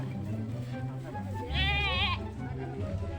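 A goat bleats once, a loud, wavering cry that rises over constant background talk and noise in a Bangla village drama scene.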